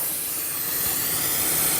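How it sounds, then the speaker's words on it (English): Light water spray misting over dusty drum brakes on a Toyota Corolla, a steady soft hiss close by with no talking. "I'm going a little light spraying."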